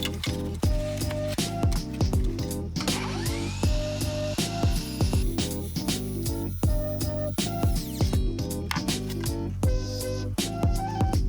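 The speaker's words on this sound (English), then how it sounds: "And now we cut with our multi-tool." An oscillating multi-tool cutting out a shower niche, giving a rapid buzzing whine in repeated short cuts and pauses, fairly close and loud with no talk.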